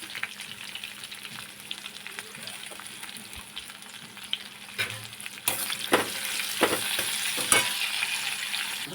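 Green chilies fry in hot oil in a pan, giving a steady close sizzle with scraping stir strokes that grows louder and busier toward the end.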